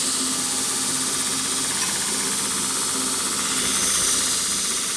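A Vevor 82-inch belt sander grinds a piece of 1/4-inch steel angle stock, a steady loud whirring hum with abrasive hiss that swells briefly as the metal is pressed harder.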